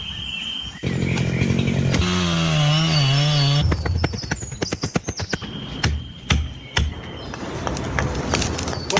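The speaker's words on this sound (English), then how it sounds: "we'll have to endure maybe listening to the odd chainsaw here and there." A chainsaw runs close by and loud, its engine droning and wavering in pitch before breaking into choppy revving bursts and pulses.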